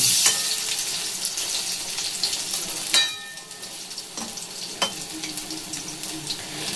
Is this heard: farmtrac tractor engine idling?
no